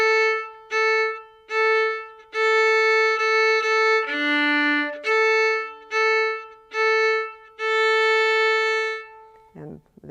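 Solo violin playing the opening bars of a Suzuki Book I minuet, a run of clear sustained bowed notes in a steady rhythm with brief gaps between phrases, close and alone.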